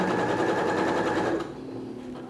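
Sewing machine running steadily as it stitches fabric in a first sewing lesson, loud and close for over a second before the motor slows and quiets, with no talking.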